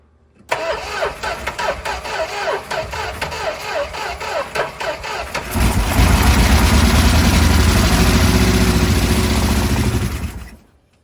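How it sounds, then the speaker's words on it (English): An abandoned big-block Plymouth Trail Duster engine, unrun since 2002, cranks with rapid rhythmic starter clicks, then catches and roars into a loud, steady, high-revving idle before cutting off. "that's idling real high"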